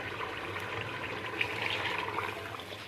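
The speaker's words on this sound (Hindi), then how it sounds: "ये देखें, पानी ऐड कर देंगे" Water pours into a pan of roasted chickpeas and spices for chickpea masala, a steady noisy splashing and trickling that lasts throughout, close and moderately loud.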